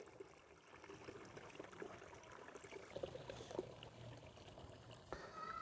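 Water poured by hand into a homemade pea-peel liquid fertilizer, making a faint, steady trickle and splash for several seconds with no talk.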